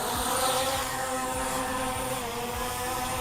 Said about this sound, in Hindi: तो देखिए इसको हम दबाते ही ड्रोन ऊपर उड़ेगा